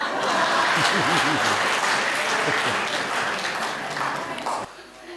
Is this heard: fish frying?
no